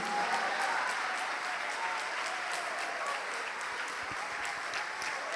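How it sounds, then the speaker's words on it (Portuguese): A church congregation applauds in praise during a Portuguese-language service, a steady, dense wash of clapping that fills the whole stretch at an even level. "Vamos aplaudir mais ao nome de Jesus."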